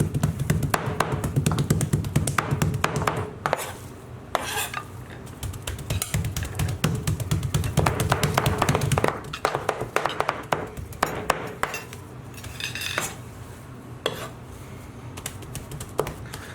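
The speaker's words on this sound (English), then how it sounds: "we're just going to continue now until it's nice and minced." A knife minces ingredients seasoned with red sumac into a paste on a cutting board. Rapid, continuous chopping taps repeat close up for the whole stretch, loud and busy, with brief pauses between bursts.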